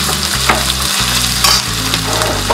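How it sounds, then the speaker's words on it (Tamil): Chopped large onion sizzling and frying in hot oil for vermicelli biryani, loud and close, with steady crackle and stirring throughout and no talking. "எண்ணெய் நல்லா சூடாயிடுச்சு. ஒரு பெரிய வெங்காயம் ஒன்று கட் பண்ணி வச்சுருக்கேன்."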